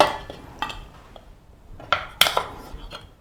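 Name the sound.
metal cooking vessel being handled in kitchen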